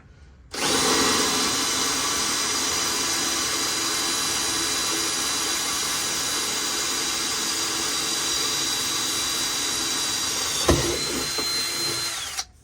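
A power drill runs continuously at high speed for several seconds, close and loud, then winds down to a stop, while fitting speaker pods in a 1987 Jeep Wrangler YJ.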